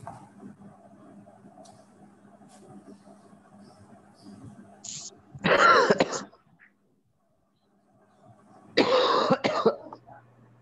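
A man coughs in two harsh, loud bursts several seconds apart, over a faint background of quiet room noise and distant murmuring.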